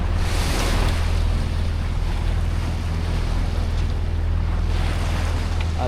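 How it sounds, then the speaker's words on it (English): Big ocean swells surge and wash around a sailboat on a passage from Kona to Hilo, with strong wind buffeting the microphone; a loud, continuous roar of water and wind, nobody speaking. "the swells are already getting big"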